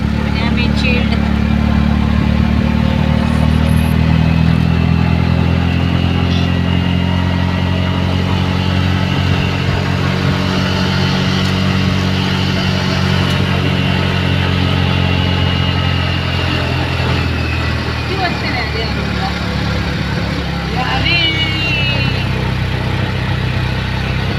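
Auto-rickshaw engine driving through the old Khandala ghat, a steady mid-pitched drone with shifts in revs, heard close throughout under intermittent talk.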